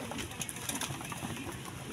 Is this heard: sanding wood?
no